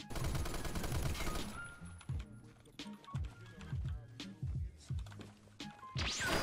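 M60 machine gun fire in Phantom Forces, an opening sustained burst followed by a run of loud, rapid bursts and individual shots, close and punchy, with game effects between them.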